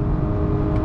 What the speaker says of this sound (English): Just that RPM, the way it's pegged, is just not pleasing to the ears whatsoever.